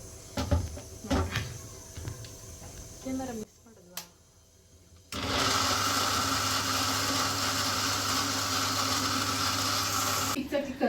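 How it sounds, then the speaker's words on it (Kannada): A kitchen mixer grinds coriander, mint and coconut, starting after some clattering and a pause, then running as a loud, steady whirring roar for about five seconds before cutting off. "ಕೊತ್ತಂಬರಿ ಪುದೀನ ತೆಂಗಿನಕಾಯಿ ಹಾಕಿ ರುಬ್ತಾ ಇದ್ದೀನಿ"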